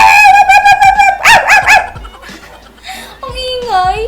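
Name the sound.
dogs barking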